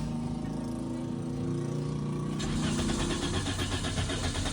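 A Toyota Vios that arrived at the shop on a tow truck cranks steadily without catching, close and loud, with a continuous churning starter drone that shifts tone partway through.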